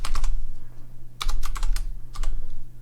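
Computer keyboard keys tapped in three quick bursts of clicks, close and clear over a steady low electrical hum, with no talking.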